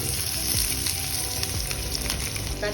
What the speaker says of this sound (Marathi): कांद्याला आपण परतून घेऊ